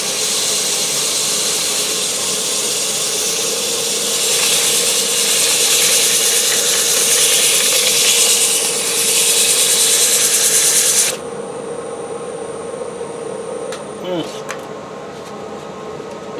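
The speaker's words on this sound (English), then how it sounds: "I'll sand it on up to about 400" Sandpaper of 120 grit pressed against a naturally pierced wooden bowl spinning on a woodturning lathe, a steady loud hissing rasp over the motor hum that cuts off partway, leaving the lathe running alone.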